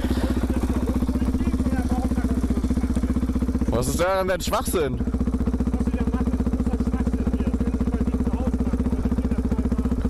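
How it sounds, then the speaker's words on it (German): A motorcycle with a loud aftermarket exhaust idles steadily with a chugging drone, then briefly revs in a sharp burst around the middle before settling back to idle, while a person talks over it. "damit machst du dir keine Freunde mit so einem Auspuff"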